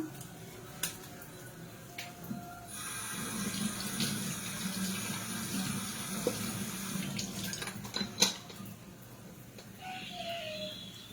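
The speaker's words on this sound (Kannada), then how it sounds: "ನಾನು ಸುಮ್ಮನೆ ಸ್ವಲ್ಪ ಸ್ವಲ್ಪ ನೀರು ಚಿಮ್ಮಿಸ್ಬಿಟ್ಟು ತಣ್ಣಗೆ ಮಾಡ್ಕೊಂಡೆ" Water sprinkled bit by bit onto a hot pressure cooker to cool it, a soft steady wash of splashing and trickling with a few small clicks and taps, close by and without speech.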